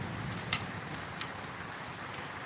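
Steady rain falls outdoors in an even, hissing wash, with a few sharper drops tapping nearby.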